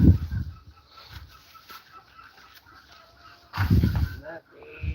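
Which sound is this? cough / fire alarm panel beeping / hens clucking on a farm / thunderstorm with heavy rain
hens clucking on a farm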